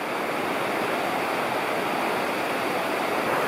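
A fast-flowing mountain river on the Kuniyok in the Khibiny mountains of the Kola Peninsula rushes past a huge boulder, a steady, loud, dense roar of water that continues unbroken with no voices.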